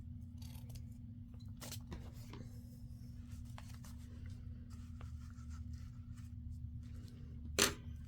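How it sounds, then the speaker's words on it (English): Scissors trim paper pages for a junk journal, a few faint, scattered snips and rustles over a steady low background hum, ending with one sharper cut. "Let me trim some of these off so I don't get them all mixed up into my next"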